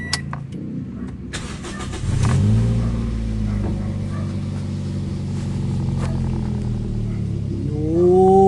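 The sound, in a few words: Toyota Vios engine starting and revving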